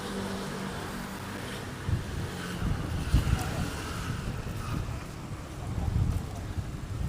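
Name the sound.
headwind blowing while riding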